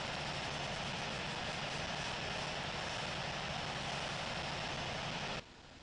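Air Force One taxiing toward runway 27 right at London Heathrow, its jet engines giving a steady, loud, broad roar that holds evenly and then drops off sharply near the end.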